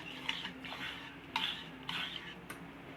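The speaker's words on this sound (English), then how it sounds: "Give a nice mix." A spoon stirring spices in a pan for sambar, scraping and clinking against metal in uneven strokes over a light sizzle, close and clear, no talk.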